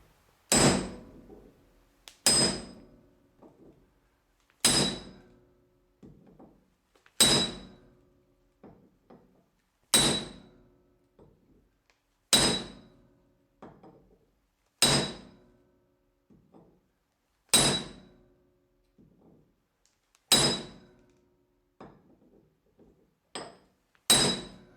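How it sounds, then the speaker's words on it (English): Steel hammer striking a large brass drift to seat a bearing in a rear differential, ten sharp metallic blows at a steady pace about every two and a half seconds, each ringing briefly with faint clinks between, close and alone. "We'll just hammer on this until we get it started"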